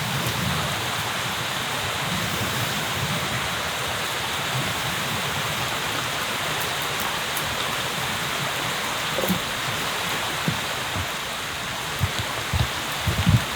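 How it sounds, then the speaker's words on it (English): Heavy monsoon rain pours onto a leaky survival shelter on an island, a loud continuous hiss with scattered drips and taps growing more frequent toward the end. "It's still just as leaky as yesterday, but it's better than being directly in the rain."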